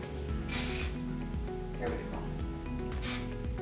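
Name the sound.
hair finishing spray being sprayed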